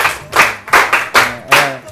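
A handful of people clap in bursts of sharp, close hand slaps, five or six loud uneven beats in quick succession, with voices murmuring underneath.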